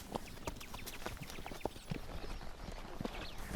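Horse hooves clip-clop at a steady walking pace on a safari ride through a Zimbabwe game reserve, the rhythmic knocks close by over faint outdoor ambience.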